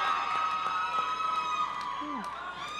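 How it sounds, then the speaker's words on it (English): A boxing crowd at an All Star Promotions fight night cheers and whoops during the final bout, a broad, fairly loud wash of voices with scattered shouts. "The crowd's feeling it"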